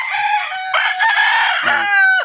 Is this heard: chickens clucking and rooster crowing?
yes